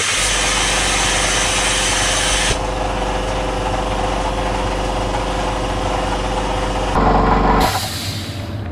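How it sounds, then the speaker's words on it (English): A compressor running in a pub cellar, a loud steady mechanical hum with a constant low drone, shifting pitch partway through and surging briefly near the end. "that was the compressor once again"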